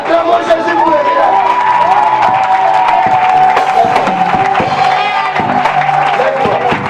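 A church congregation cheers and acclaims Jesus at a French-language preaching service, a loud, sustained crowd roar with whoops and scattered clapping that carries on without a break, with voices rising through it.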